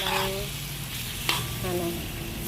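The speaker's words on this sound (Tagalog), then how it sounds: "Kumulo ng kumulo hanggang sa medyo maprito siya." Chicken for Filipino kinamatisang manok bubbles and fries in a pan, a steady close sizzle with a brief clink of a utensil midway, no one talking.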